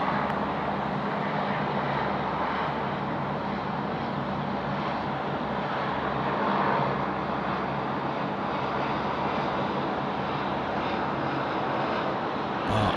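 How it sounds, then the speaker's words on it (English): An aircraft taxiing and departing at Sydney Airport, heard as a constant broad engine roar with a low rumble, steady throughout and without voices. "now departing, and it's going to be taxiing down to the Alpha 6 holding point for 34 left"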